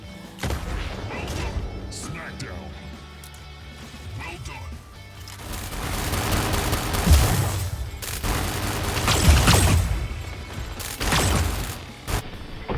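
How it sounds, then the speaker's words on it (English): Rockets fired one after another in a control-points clash shooter match, heavy booming blasts and crashing impacts repeating through the stretch, loudest toward the end, with a voice talking over the gameplay. "just firing one rocket after the other"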